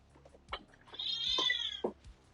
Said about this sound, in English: Our cat is insistent.